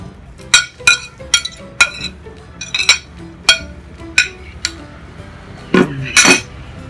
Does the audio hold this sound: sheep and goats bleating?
no